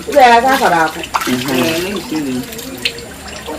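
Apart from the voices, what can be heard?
washing hands with water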